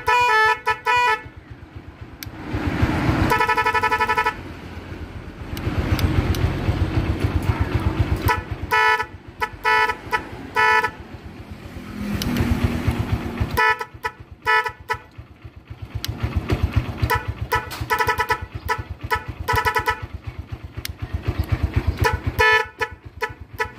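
A car music horn plays a sequence of loud melodic tones in bursts and short repeated phrases, cycling through several tunes from a selector, with brief gaps between passages.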